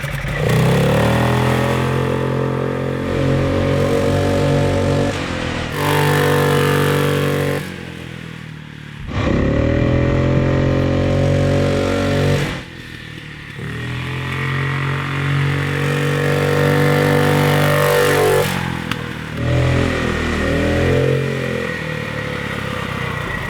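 A 420cc ATV engine with its governor tied open revs hard up close, loud sustained roars broken by several brief dips as the throttle eases and climbs again.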